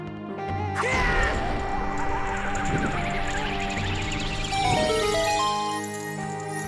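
The Din's Fire spell in The Legend of Zelda: Ocarina of Time on N64 erupts with a sudden whooshing blast, a bright shimmering magical burst swelling and crackling, then a second flare before fading into chimes.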